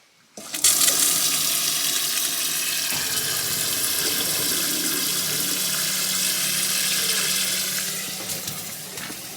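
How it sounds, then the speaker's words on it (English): Water gushes loudly and steadily into a van's water tank after an abrupt start, a continuous rushing pour of about 10 litres that eases slightly near the end. "Just put 10 litres of water in the tank."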